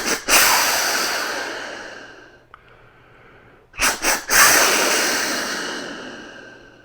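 A hunter's call imitates a whitetail deer snort-wheeze: sharp breathy snort bursts, then a long hissing exhale, loud and close, with a quieter pause between.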